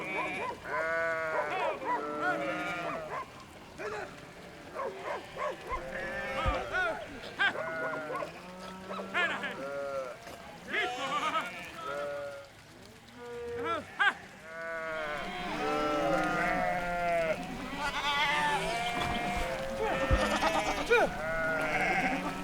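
Mixed flock of sheep and goats on a migration road in Georgia bleat loudly and repeatedly, many overlapping calls near and far while crossing deep mud, with occasional lower cattle moos among them.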